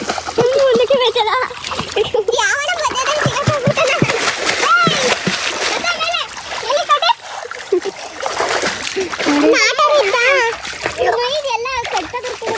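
Children splash and slosh in muddy water while being bathed outdoors, with repeated close splashes and children's voices chattering and calling out throughout.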